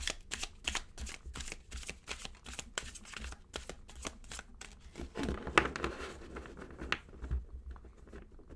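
A crow-themed tarot deck is shuffled by hand in quick, close riffling bursts with papery patter and slaps, repeating in an uneven rhythm and fairly quiet.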